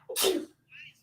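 A single sharp, close sneeze bursts out, followed by a brief soft breath or murmur.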